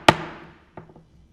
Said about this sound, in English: About time you bang the hammer.